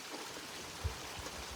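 A waterfall along the Ouachita Trail, heard as a steady, moderate rushing and trickling wash of water with no voices, constant from start to finish.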